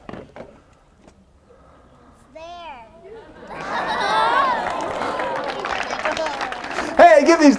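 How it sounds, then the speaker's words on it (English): Three child volunteers at a kids' magic show birthday party receive a burst of audience applause and chatter that builds after brief speech and a voice, growing dense and lively before a shout near the end. "give these 3 a big round of applause"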